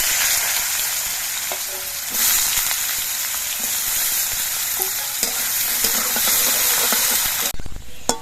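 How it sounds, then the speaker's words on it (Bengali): Potatoes fry in hot oil with nigella seeds and dried red chili while being stirred; a loud, continuous sizzle and hiss runs throughout, broken by repeated scraping and clattering stirs, with no speech. "আলুগুলো আমি বেশ কিছুক্ষণ নাড়াচাড়া করে ভেজে নিয়েছি"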